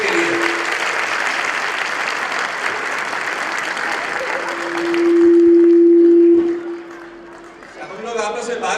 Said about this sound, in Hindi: जोरदार तालियां सभी पेरेंट्स के लिए।